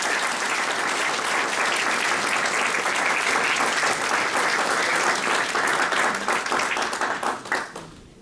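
Sustained applause from a lecture audience welcoming the interim provost, a dense steady wash of many hands clapping throughout, tapering off in the final second.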